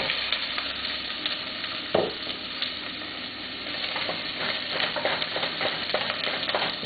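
Coarsely chopped Spanish onion sautés in a pan, a continuous sizzle broken by repeated clicks and scrapes of stirring, with one sharper knock about two seconds in.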